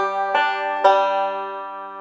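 A banjo plays a roll with a 2-5 slide in eighth-note timing, plucked notes ringing bright and close, with two distinct attacks that sustain and decay, no talking.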